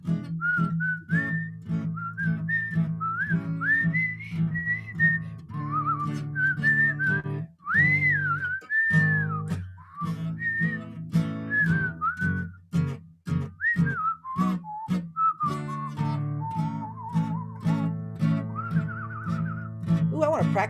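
A person whistles a wandering, sliding melody, loud and close, with long held notes and brief pauses, over a soft background accompaniment.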